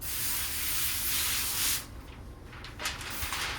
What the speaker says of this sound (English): first I'm going to spray it.